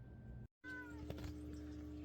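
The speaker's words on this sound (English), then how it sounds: "Oh, here comes the other cat out of his little hole there." A house cat meows, fairly faint and close, with a short drawn-out call over a low background hum that briefly cuts out.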